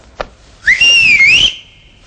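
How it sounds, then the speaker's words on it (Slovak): A single human whistle, rising then wavering and holding a steady pitch for about a second, loud and close, after a brief faint click. "No dobre, budeme hvízdať."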